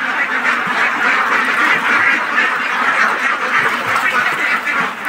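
Ducks quacking steadily at a farm pond where they step down into the water, a dense, continuous chorus of many birds close by with no talk.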